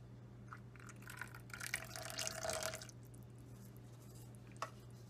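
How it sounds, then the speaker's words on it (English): Salt water pours into a cold process soap mixture in a brief, faint trickle of liquid over a steady low hum, with no one talking. "Now I'll add my salt water."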